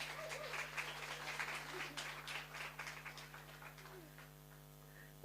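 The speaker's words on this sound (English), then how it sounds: "we can give a loud round of applause to invite Dr. Henry as she comes." Audience applause at the launch of a national literacy task force, faint and somewhat distant clapping over a steady mains hum, fading gradually toward the end.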